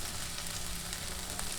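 Ginger garlic paste and curry leaves fry in hot oil, giving a soft, even sizzle that stays quiet and steady through the short stretch, with no talking.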